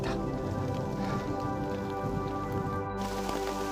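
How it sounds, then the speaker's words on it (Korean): Heavy rain pours on the Hallasan Dulle-gil trail, giving a steady, dense hiss with close drops pattering on surfaces nearby for the whole stretch. "비가 너무 크게 내려가지고"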